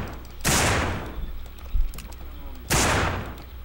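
Gunfire from the zombie survival video game No More Room In Hell: two sharp, loud shots about two seconds apart, each with a short reverberant tail, and a dull thump between them over a quiet game background.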